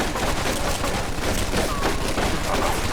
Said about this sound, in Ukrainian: Кулемет.